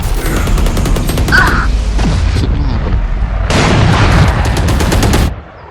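Spike detonation in Valorant, a loud game blast amid heavy booming and gunfire-like bursts, dense through most of the clip before cutting off near the end.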